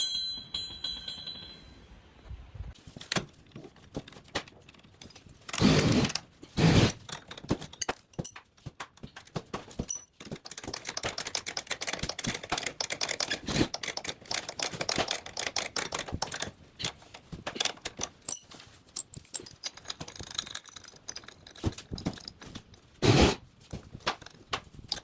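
Metallic clanks, ratcheting and clicks from bolting down an airbag bracket on a 2019 Ram truck with the axle jacked up, with irregular bursts and sharp knocks over about twenty-five seconds, close by, without speech.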